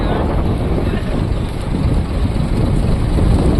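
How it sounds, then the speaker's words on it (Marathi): Strong sea wind buffets a fishing boat out in deep water, a loud steady roar and rumble filling the whole stretch without a break. "वारा भरपूर सुटलेला आहे"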